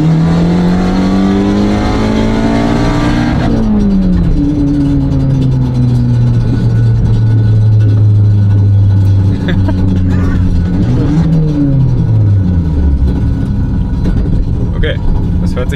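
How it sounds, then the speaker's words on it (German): A front-wheel-drive car engine revs hard close by at full throttle, its loud, rough roar climbing and dropping in pitch as it accelerates through the gears, with the exhaust coming loose. "Hört sich so an, als wenn wir gerade einen Auspuff verloren haben."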